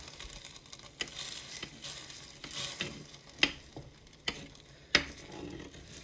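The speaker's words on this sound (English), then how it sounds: "Now you stir that all in." A spoon stirs creamy beef stroganoff sauce in a pot, giving soft, quiet scraping with three sharp clinks against the side.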